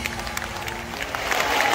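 A crowd at a large bhandara festival in Palasni claps. The applause swells from scattered claps into a fuller, rising wave of crowd noise over the short span.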